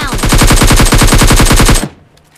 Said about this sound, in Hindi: इस बंदे में मैं लास्ट तक एमओ मारता रहता हूँ